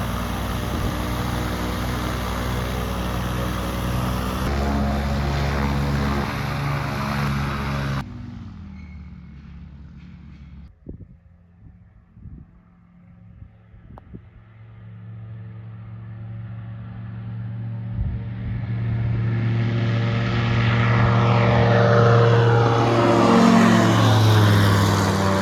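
A light propeller aircraft engine drones loudly and steadily, then drops to a quieter idle with scattered knocks and clicks before rising again to a strong, building roar near the end.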